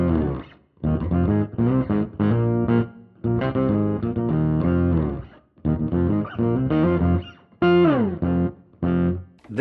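Electric bass run through a Fractal FM3/FM9/Axe-FX III pitch effect adding octaves above and below, giving a thick, distorted, organ-like synth tone in short rhythmic phrases separated by brief pauses.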